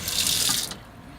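Water runs from the tap into a sink in a van conversion as a bright, loud hiss that cuts off abruptly partway through, leaving a low background.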